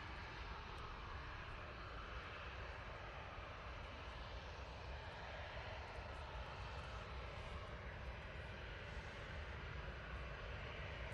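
A Ryanair airliner departing Manchester Airport for Barcelona, its engines a faint, continuous distant rumble that holds level throughout with no clear rise or fall.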